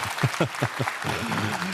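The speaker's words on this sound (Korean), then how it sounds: "박수 한번 하실까요?" A short burst of applause from a small live talk show audience, a few distinct claps followed by a brief murmur of voices.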